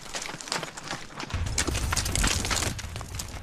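Hooves clip-clop as a horse is ridden toward the Saqqara step pyramid in Egypt, a busy, fairly faint patter of steps mixed with wind and outdoor noise.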